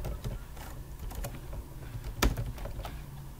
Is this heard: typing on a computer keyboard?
yes